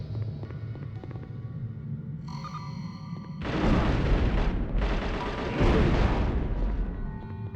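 Rockets firing and exploding in a video game: a steady low rumble of gameplay, then two loud, broad blasts in quick succession that roar and decay over several seconds, with no talking.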